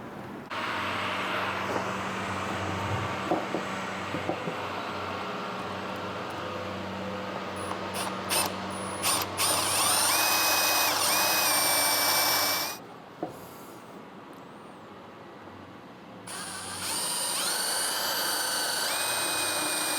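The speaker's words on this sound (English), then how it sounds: "Now we'll drill these out." A power drill whines loudly in long bursts drilling out bolts on a BMW S 1000 RR motorcycle's triple clamp, stopping briefly and starting again, with scraping and rattling of metal between runs.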